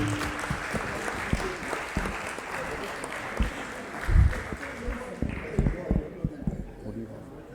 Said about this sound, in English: A big round of applause for the panel members,